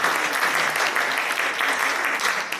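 Sunday worship congregation at a Presbyterian church applauding, an even, steady burst of many hands clapping throughout.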